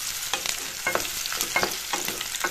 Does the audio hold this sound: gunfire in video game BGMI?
no